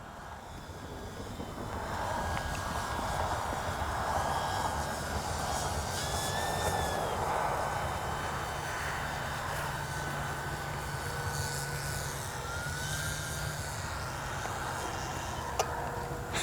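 A Flex Aviator 40E RC airplane flies in to land on grass, its electric motor buzzing steadily at mid distance with slight pitch shifts, alone and fairly constant throughout.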